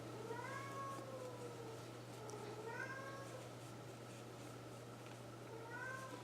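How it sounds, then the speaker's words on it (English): A neighborhood cat yowls repeatedly at a storm door, its drawn-out rising and falling meows coming in three or four bursts over a steady low hum, fairly distant and moderately loud. "the cat is at the storm door yowling at the other cat."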